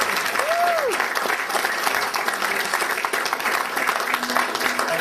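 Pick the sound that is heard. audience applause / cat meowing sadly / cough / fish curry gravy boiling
audience applause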